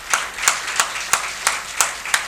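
Hands clap at a Hindi poetry gathering (kavi goshthi), seven crisp, evenly spaced claps about three per second. The sparse, steady rhythm sounds like a single clapper rather than a full crowd, with no talking.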